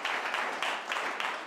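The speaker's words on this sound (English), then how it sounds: "give yourselves another round of applause for coming here" Audience applause at a seminar, a dense steady wash of many hands clapping at moderate distance, continuous throughout without voices on top.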